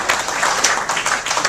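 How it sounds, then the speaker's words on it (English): An audience bursts into loud, dense applause for a state university, a steady roar of many hands clapping close and alone without talk. "let's have a round of applause for our state university"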